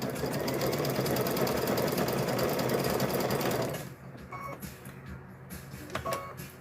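A sewing machine stitches coiled rope for a rope bowl in a fast, steady whir for several seconds, then stops, leaving a quiet room with a few small clicks and handling noises.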